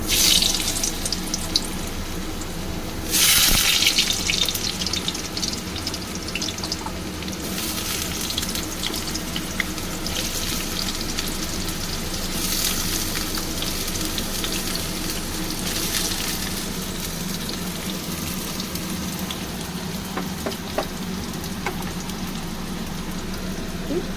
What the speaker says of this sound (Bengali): আলুটা একটু ভেজে নেব তেল বসিয়েছি করার এই আলুটা আগে একটু ভেজে তুলে নেব